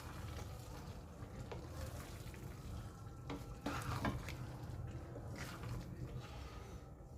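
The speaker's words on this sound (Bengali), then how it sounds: "দিয়ে ভালোভাবে জিরে গুঁড়োটা মিশিয়ে নিচ্ছি।" Mango pickle being stirred with cumin powder in a wok, giving a steady low frying hiss with scattered soft scraping strokes of the spoon, fairly close, with no talk.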